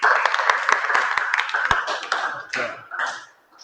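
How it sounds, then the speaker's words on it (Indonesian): A classroom group of students claps briefly, with a handful of distinct hand claps at the start, then voices chatter and call out as the clapping fades. "Tepuk tangan buat kalian semua."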